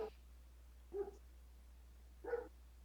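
A dog barks somewhere in the background of a tabletop role-playing game session, three faint, muffled barks spaced about a second apart, with no talking in between.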